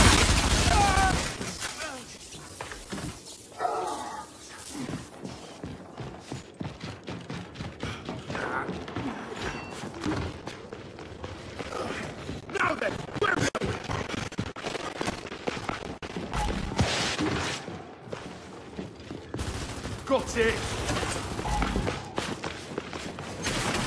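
Gears 5 combat on a laptop's integrated graphics: dense, continuous clatter of gunfire, footsteps and mechanical game noise throughout, with frequent sharp impacts and a voice speaking over parts of the mix.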